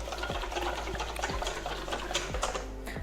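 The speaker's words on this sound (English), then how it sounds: "I just like to use a normal hand mixer" Manual hand mixer whipping a vegan, gluten-free bread mixture toward stiff peaks, a fast, steady mechanical whirring and rattling with repeated light clicks, close and continuous.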